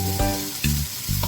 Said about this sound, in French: Je fais dorer uniquement qu'avec la graisse de la viande.